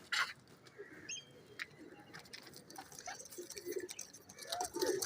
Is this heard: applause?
no